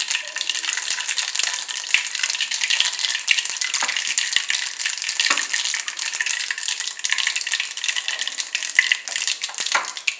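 Mustard seeds and spices are tempered in hot sesame oil for mango pickle, giving a steady, busy sizzle with fine crackling pops that runs without a break, close by and fairly loud, with no talking.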